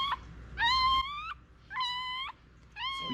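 A newborn blue roan female English Springer Spaniel puppy squeaks in three drawn-out, high, wavering cries separated by short pauses, close and fairly loud.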